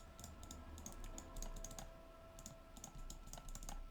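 Computer keyboard keys clack in quick irregular bursts of single presses, close and fairly quiet, with no voices.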